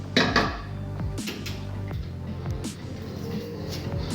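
Meatballs are placed into a metal frying pan, producing a series of close clanks and soft thuds of meat and utensils against the pan, spaced irregularly over a few seconds with no talk.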